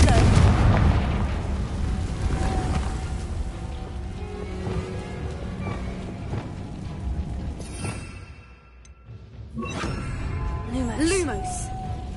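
Confringo explosion spell from Hogwarts Legacy erupting as a loud, close, rumbling blast that slowly decays into crackling debris, followed by fainter bursts and a few whooshing magical effects.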